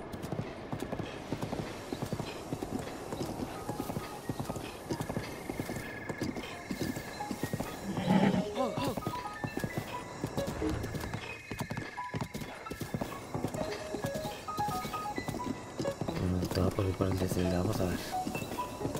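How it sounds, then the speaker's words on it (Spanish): Steady rapid clip-clop of a large horse's hooves throughout, with an occasional whinny and game ambience in the background, from Zelda: Breath of the Wild. "Este caballo es bien regularcito."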